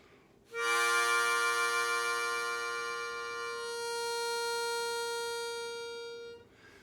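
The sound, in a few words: harmonica, holes 4 and 5 blown together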